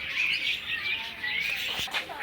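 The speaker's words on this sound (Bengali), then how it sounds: "বন্ধুরা সামনে আর কি পাখিগুলো দেখো কত সুন্দর লাগছে। বদ্রি পাখি তো আমাদের কাছে আছে দেখুন।" Caged budgerigars chirp and warble in a continuous bright chatter, close and fairly loud, with several birds calling over one another.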